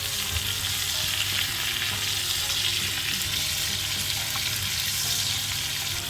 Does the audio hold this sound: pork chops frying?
yes